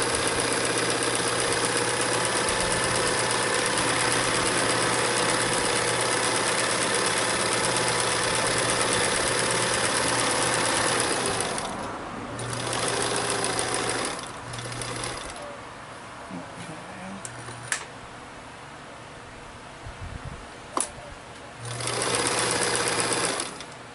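A sewing machine stitches a butterfly net with a steady, loud mechanical whir for about twelve seconds, then runs in shorter bursts separated by pauses and faint handling noises.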